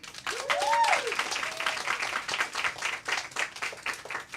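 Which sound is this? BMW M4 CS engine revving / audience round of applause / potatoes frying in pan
audience round of applause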